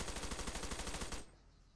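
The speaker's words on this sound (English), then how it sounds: "I'm shooting at this guy." Rapid automatic gunfire in a video game, a fast, even burst of close, loud shots lasting about a second before it cuts off to quiet background.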